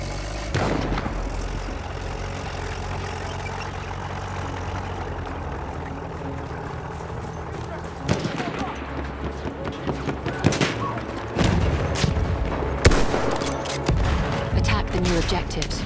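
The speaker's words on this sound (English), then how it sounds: "Wait for the enemy artillery barrage to stop firing." An enemy artillery barrage in the Battlefield 1 video game: a sustained rumbling wash of distant explosions and gunfire, with sharper, louder blasts breaking through toward the end.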